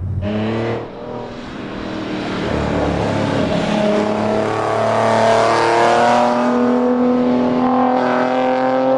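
A Ford Mustang Shelby GT V6 engine with buzzy aftermarket mufflers revs and accelerates loudly up close, with a raspy, buzzy exhaust note rising and holding steady.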